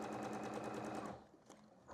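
A home sewing machine fitted with a ruler foot runs steadily while quilting, a fast rhythmic needle chatter that stops about two-thirds through and leaves quieter handling noises behind.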